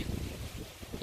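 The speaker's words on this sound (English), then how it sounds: "Quite a windy day today." Strong wind roars across the microphone outdoors in a backyard fruit garden, steady and buffeting with low rumbling gusts.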